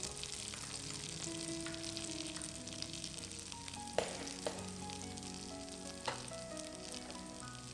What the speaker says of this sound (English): When it's hot and the butter has melted, put in 3 cloves of chopped shallots and 4 cloves of black garlic.